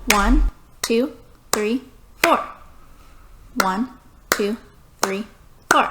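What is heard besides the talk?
clapping four quarter notes while counting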